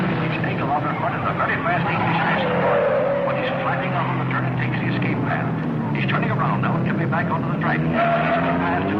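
Race cars on a track after an inverted start, with the fastest qualifiers trailing the field: a steady, loud roar of engines that runs beneath continuous announcer commentary throughout.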